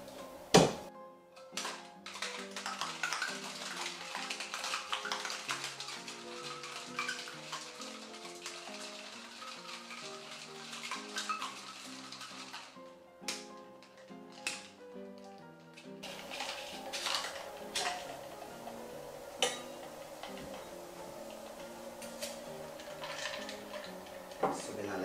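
A blue kamikaze shot cocktail made with lemon liqueur being shaken in a cocktail shaker, giving rapid rattling clinks and ticks of ice that run steadily, then turn sparser and more scattered.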